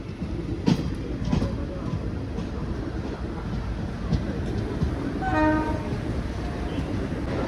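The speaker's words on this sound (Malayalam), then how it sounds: "അപ്പോൾ നമ്മളിത് പാലക്കാട് ജംഗ്ഷൻ വന്ന് കയറിക്കൊണ്ടിരിക്കുകയാണ്." Passenger train on the Shoranur–Coimbatore line pulling into Palakkad Junction, a steady rumble of wheels and rail clatter with wind noise and a brief horn-like tone midway.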